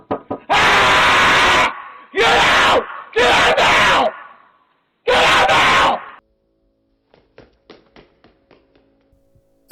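A man screams in berserker rage, four long, loud, raw bursts separated by short pauses, followed by quiet scattered tapping.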